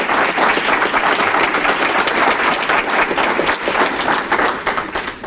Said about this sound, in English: So if I can have a round of applause.